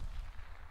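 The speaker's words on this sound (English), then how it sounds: "He's shooting at me." Enemy gunfire in the video game PUBG, a short burst of distant, muffled shots with a sharp crack at the very end.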